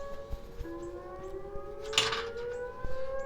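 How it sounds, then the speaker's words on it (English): Civil defense siren sounding at midday in Tulsa, Oklahoma, a faint, distant sustained wail with slowly rising pitch over quiet outdoor background noise. "That's the midday siren."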